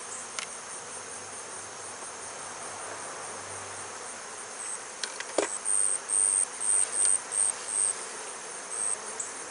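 Honey bees hum in an opened hive, a dense, steady buzz filling the air, with faint handling knocks and a few short bursts near the end.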